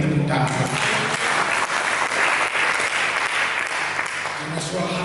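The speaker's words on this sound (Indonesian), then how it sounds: "Mari kita berikan tepuk tangan." A congregation at a church service claps in a steady, fairly loud round of applause that continues throughout, with voices faintly audible underneath.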